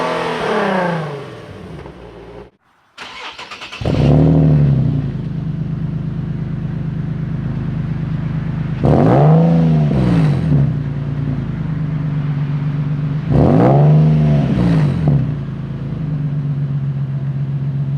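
A car engine with a newly fitted exhaust idles steadily, then revs sharply three times with rising and falling sweeps, each burst loud and close and settling back to a deep idle between them.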